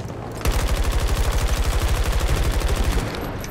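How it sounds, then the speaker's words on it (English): Sustained rapid-fire bursts from an M5 assault rifle in a multiplayer shooter, a steady loud rattle of evenly spaced shots for about two and a half seconds before cutting off. "I love how this gun sounds as well"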